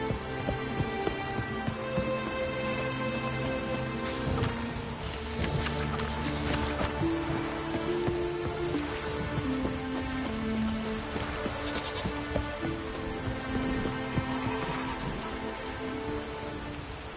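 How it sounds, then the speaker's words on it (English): Heavy rain pours steadily in Witcher 3, a continuous wash of drops falling on surfaces, fairly quiet and even, with faint low game music beneath and no talking. "Raining buckets."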